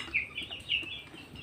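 Chicks near a feeder giving a few high, short peeping clucks, two clearer calls standing out over a quiet background.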